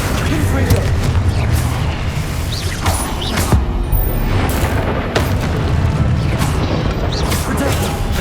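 Confringo blasting spell in a Harry Potter style game, heavy booming crashes and smashes bursting over a dense, loud rumbling background, with a voice talking at points.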